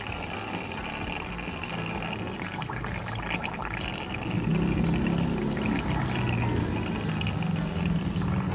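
Distilled water is poured into the radiator of a Kymco DTX 360 scooter, a continuous trickling gurgle that grows fuller and louder midway, close by and with no talk.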